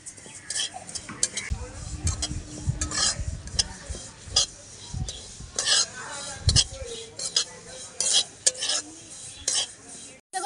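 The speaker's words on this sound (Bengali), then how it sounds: "এবার তিলটা ভেজে নেব তিলটা হালকা করে ভেজে নিতে হবে" Sesame seeds being lightly dry-roasted in a pan for pitha, with a spatula scraping and stirring in quick repeated strokes and a soft sizzle underneath, heard up close with little talk.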